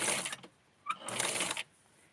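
A sewing machine stitches lace onto fabric for a small 6-inch premie doll, running in two short bursts of steady mechanical whirring separated by a brief pause.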